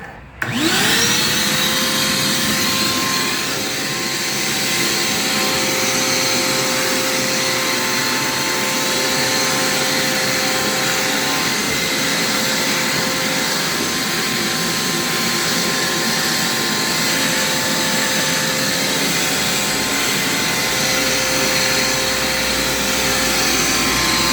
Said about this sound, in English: This vacuum cleaner.